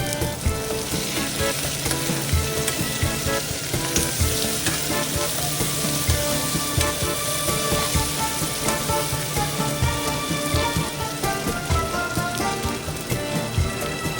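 A bay leaf sizzles in hot oil as chicken gizzard curry begins cooking, a loud, steady crackling fry with dense spattering pops that continue evenly throughout with no voices.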